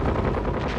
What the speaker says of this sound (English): A few direct hits from wing-mounted 20mm cannons are all they need to send the slower British Hurricanes down